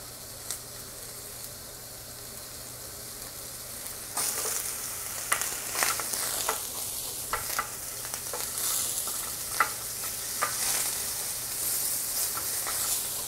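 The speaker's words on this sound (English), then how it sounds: "I'm going to add some white mushrooms. I'm going to saute them really well." White mushrooms sautéing in extra butter in a pan, with a steady close sizzle and frequent sharp stirring scrapes and clicks that pick up after the first few seconds.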